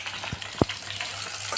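Duck meat fries with onion in a wok, a faint steady sizzle broken by a couple of sharp clanks of a utensil against the pan.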